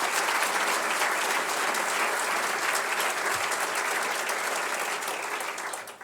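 An audience at a Norton Healthcare celebration of an NQF Quality Award gives a sustained round of applause: thick, even clapping from a large crowd that holds steady before fading in the final second.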